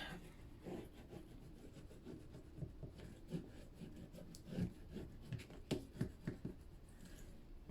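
Paper for a handmade gate-fold mini album is rubbed down with a burnishing tool after wet glue, close, dry scraping strokes repeating irregularly, with a few louder rubs near the end.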